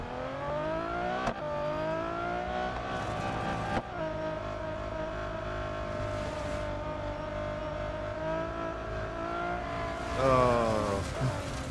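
A Ferrari race car engine in the racing game Real Racing 3 drones in a steady high-pitched whine, with brief gear-shift breaks and a louder surge of revving near the end.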